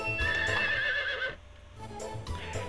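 A horse in Harvest Moon 64 gives a clear, close whinny, followed by a short pause and a few light hoof clops.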